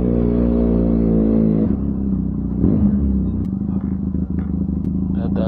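Benelli TRK 502 motorcycle with a loud aftermarket exhaust while riding, its deep steady drone up close that drops in pitch partway through, with some clatter and wind noise.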